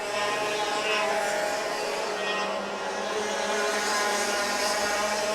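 Racing karts at an LAKC kart track in May 2016, their small engines whining in a steady, continuous buzz that swells and fades slightly as they circle, heard from a distance near the grandstand.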